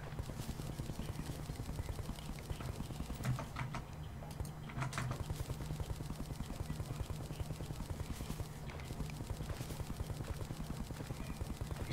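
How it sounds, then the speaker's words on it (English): A Terraria enemy fires its stinger in rapid bursts, a fast regular rattle of short projectile hits over steady game sounds, with no talking. "He's shooting his stinger at me."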